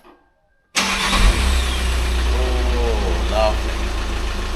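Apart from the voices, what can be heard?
VW Crafter van engine starting and idling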